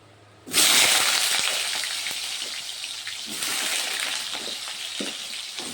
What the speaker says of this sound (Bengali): এখন আমি আলুগুলো ভেজে নেব ওই তেলের মধ্যে